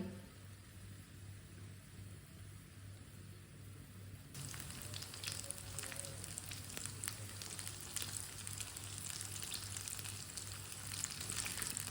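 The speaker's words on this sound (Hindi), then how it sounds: "ऑयल हमारा अच्छी तरह गर्म हो चुका है। इसी तरह थोड़ा थोड़ा पेस्ट लेंगे और डालते जाएंगे, एक एक चम्मच भर के।" Spoonfuls of batter paste dropped into hot oil for a breakfast dish, heard as a sudden broad crackling sizzle that starts partway through after a quiet low hum and then continues steadily, close and alone.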